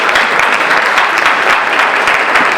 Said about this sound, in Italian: diamo applauso per questa